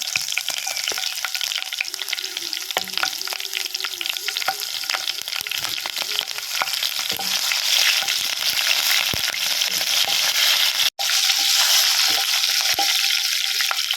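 Green chillies hit hot oil in a pan for a Kerala-style mango curry, producing a loud, steady sizzle and crackle broken by occasional stirring scrapes, with no talking.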